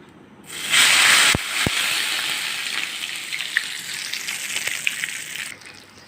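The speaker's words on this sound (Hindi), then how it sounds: "भगार जो मैंने इसमें लगाया है वो है असली घी का भगार" Hot pure ghee tempering (tadka) is poured over a chicken cheese handi and sets off a loud, close gush of sizzling hiss. It then settles into a steady crackling fry with a few sharp pops, and no one speaks.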